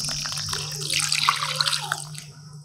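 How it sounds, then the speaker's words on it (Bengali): Grated potatoes being rinsed with water in a kitchen, giving a short burst of close splashing and running water that fades out. "এই গ্রেট করার পরেও আরো দুবার ভালো করে জল দিয়ে ধুয়ে নেব"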